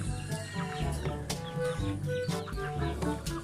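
Native chickens cluck over and over close by on a farmyard, short repeated calls overlapping in an uneven rhythm with no speech.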